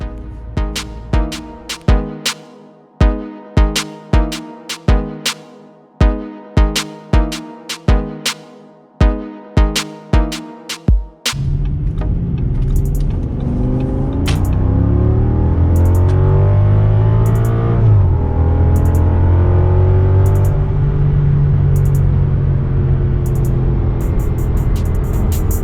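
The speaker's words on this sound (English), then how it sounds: "So always nice to get out and drive the S8." An Audi S8 with a V10 engine cruises on the road, a steady, full engine drone filling the second half after a series of sharp, rhythmic clicks at the start, with no talking.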